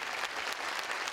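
A full church sanctuary audience applauds as conductor Chung Myung-whun takes the podium before the Seoul Philharmonic Orchestra performs; steady, dense clapping from many hands, even and somewhat distant throughout.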